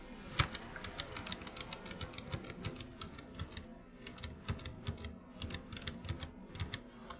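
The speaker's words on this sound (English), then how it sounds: "So there you go, that's what the keyboard sounds like." A TVS Gold Prime mechanical keyboard switch pressed without its keycap, giving a close series of sharp clicky keystrokes in an uneven typing rhythm, with no talk.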